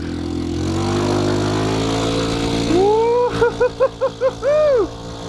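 A Honda 150cc scooter engine idles and revs, then a rapid series of sharp exhaust pops and backfires from an exhaust leak crackles out, loud and close.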